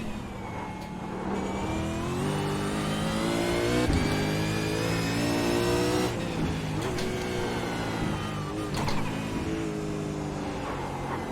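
A V8 Supercar at the 2022 Bathurst 1000 on Mount Panorama roars close and loud, its engine climbing in pitch through steady acceleration, with brief dips as it shifts gears.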